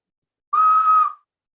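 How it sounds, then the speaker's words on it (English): A ceramic emergency whistle blown once, a single clear steady tone lasting about half a second, close and loud against silence. "I also created these cultural emergency whistles out of ceramic"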